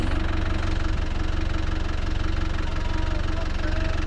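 A truck engine runs steadily while driving through a city, a loud continuous low rumble with a regular pulsing throb and no talking throughout.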